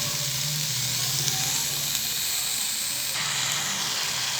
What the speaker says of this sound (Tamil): இது சேர்த்து ஒரு நிமிஷம் நல்லா வதங்கி போட்டுக்கலாம்.